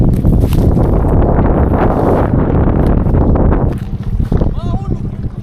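Gusty wind buffets the microphone while shore fishing with a sabiki rig, a loud roaring rush that drops off near the end as a few faint chirps come through.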